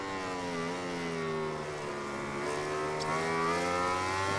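Racing motorcycle engine in MotoGP 19 during a Qatar GP race, a steady high-pitched whine holding at high revs with slight pitch rises and dips, loud and continuous with no talk.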